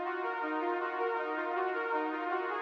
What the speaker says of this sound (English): And lastly, the Serum SY Mini Feels.